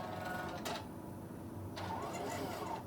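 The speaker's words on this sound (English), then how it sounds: "So now my machine is getting ready to stitch." A quilting sewing machine doing edge-to-edge work whirs steadily, with a couple of sharp mechanical clacks and motor shifts breaking the hum; close, no talking.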